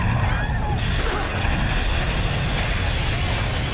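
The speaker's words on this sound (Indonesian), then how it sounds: "kemudian terjadi ledakan" A powerful explosion roars with dense, crashing rumble that keeps going for several seconds, with a voice faintly under it.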